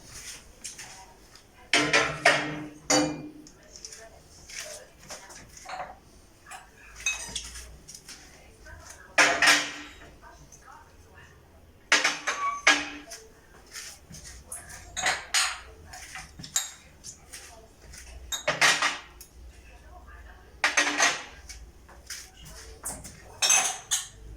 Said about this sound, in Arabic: ده بقى رص الكوبايات دي انا غسلاها، هنبدا نرصها برضو على الرف التاني ده